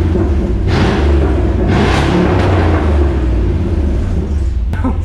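Chevrolet Blazer truck with a DIY sawed-off exhaust, a loud, steady close-up engine rumble with throttle swells, revving up and easing back.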